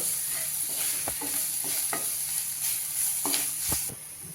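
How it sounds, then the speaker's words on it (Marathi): Chili-garlic thecha sautéing in a pan with turmeric, a steady close sizzle broken by several scraping stirs of a spoon against the pan, with no talking. "त्यामध्ये आपण हा जो ठेचा केलाय तो घालून थोडासा परतूया"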